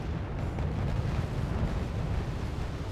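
Bombs from Intruder aircraft explode in Wargame AirLand Battle, a continuous heavy rumbling roar of blasts that holds steady and loud throughout, with no talk.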